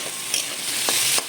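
Potato and carrot pieces frying in a pan with salt and turmeric, a steady close sizzle with brief scraping stirs, no voices.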